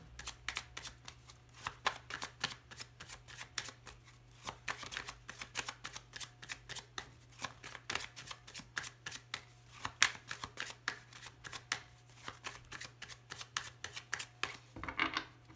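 Tarot cards shuffled by hand for a reading, a steady run of quick, crisp riffling clicks close by and fairly quiet, with a low hum underneath.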